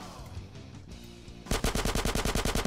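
Gunfire in GTA San Andreas, a soft game ambience for the first half, then a sudden loud burst of rapid automatic fire, evenly spaced shots hammering in quick succession until the end, with no talking.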